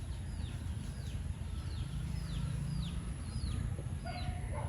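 A farm hen with five chicks is heard as soft fowl clucking, with a series of thin, high chick peeps repeating over a low rumbling background, moderately near and without speech.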